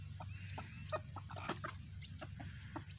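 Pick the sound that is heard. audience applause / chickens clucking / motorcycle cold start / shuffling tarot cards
chickens clucking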